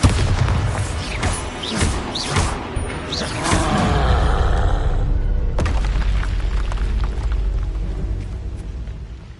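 A Bombarda blasting spell from the Hogwarts Legacy video game sets off a loud, booming explosion with crackling debris, then a second heavy blast follows and rumbles away into a long decaying tail.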